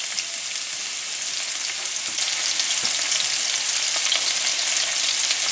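Seasoning fries in hot oil in a pan for okra with shrimp, a steady, dense sizzle with soft stirring crackles running continuously at close range, no voices.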